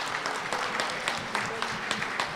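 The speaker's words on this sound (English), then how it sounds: "Give yourselves a round of applause." Brief, steady applause from a crowd at a community honoring event with high school students, heard at moderate distance as a soft, continuous patter.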